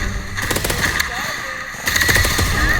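Rapid gunfire from the video game Hyper shot gun game, loud bursts of repeated shots in two clusters separated by a short lull, with a player talking over the shooting.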